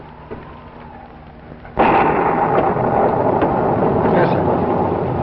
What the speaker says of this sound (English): I'm worried about that storm.